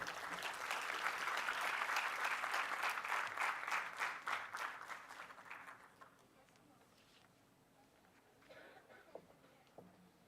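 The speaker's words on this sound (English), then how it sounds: "It would be a huge honor for us to welcome him with a huge round of applause." A hall audience at a law school orientation gives a loud round of applause to welcome a speaker; dense clapping fades out after about six seconds, leaving quiet room tone with a few faint stray sounds.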